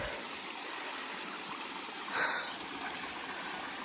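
Mountain water runoff streaming down a hiking trail on the Appalachian Trail near Mt Washington, a steady close rushing and trickling wash with a brief louder splash partway through.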